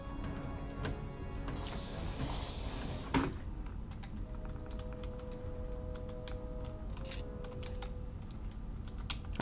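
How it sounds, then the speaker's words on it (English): Computer keyboard keys are pressed in quick irregular taps while a Star Wars Jedi Knight game plays, with steady game tones and hum underneath. "I'm just hitting buttons on the keyboard and seeing what they do."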